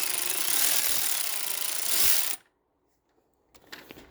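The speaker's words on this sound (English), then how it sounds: "I'm just gonna use a 10 millimeter with the ratcheting gun instead of using a Phillips screwdriver." A ratcheting gun with a 10 millimeter socket buzzes loudly and steadily for about two seconds while removing a bolt on a 2015 Hyundai Tucson, then cuts out into silence before faint handling clatter.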